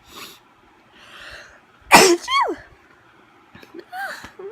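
A single sharp sneeze bursts out, close and loud, followed by a brief gasp, with quiet breathing and faint rustling before and after.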